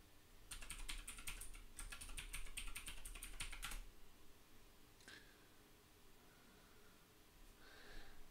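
A computer keyboard clicks softly nearby as a password is typed in two quick bursts of keystrokes, followed by quieter pauses with a couple of isolated taps.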